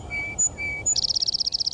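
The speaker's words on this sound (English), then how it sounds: "this is what the bird sounds like" A wild songbird gives a high whistled note, a lower one, then another high whistle, followed by a rapid, evenly pulsed trill, all close and clear with no talking.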